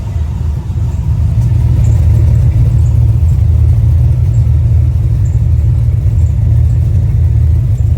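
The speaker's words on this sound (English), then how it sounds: "Listen to the exhaust." A loud, deep exhaust from a badly running Ford 5.0 V8 with cherry bomb mufflers and turndowns rumbles steadily at idle, close up, with an uneven throbbing pulse throughout.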